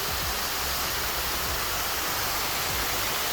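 Clocota Fall, a hot salt waterfall near Deva, on a rainy day: steady broadband rushing of falling water, close and constant, with no voices.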